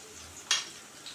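Chopped garlic hitting a hot pan with onions, a sudden sharp sizzle burst that quickly settles into faint steady frying, close and quiet, with no talk.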